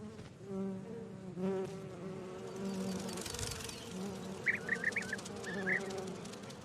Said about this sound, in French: Quand les abeilles sont de sortie en Transylvanie